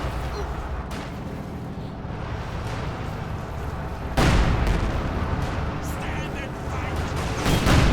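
Rocket and artillery explosions in the World War II strategy game Company of Heroes 2 make dense rumbling booms and blasts, with a heavy impact surging midway under continuous battle noise.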